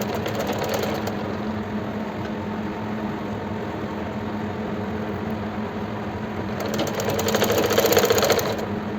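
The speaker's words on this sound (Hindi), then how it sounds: "अब पट्टी को खींचते हुए स्टिच करना है, जिससे कि गोलाई आ जाए पट्टी में" Sewing machine running steadily as it stitches a folded fabric strip onto a kurti, the strip pulled while sewing to make it curve; a continuous close mechanical whir that speeds up and grows louder near the end.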